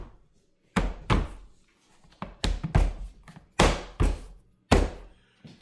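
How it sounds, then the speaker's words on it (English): Plastic tabs on the door of an LG DLHC5502V dryer snap and thunk into place as the door is refitted. About eight sharp, close knocks land at uneven intervals, with quiet between them. "And just pop all your tabs back in."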